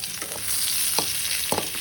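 Mustard seeds sizzle and pop in hot sesame oil in a pan for tempering, a steady hiss broken by a few sharp crackles, close and with no voices.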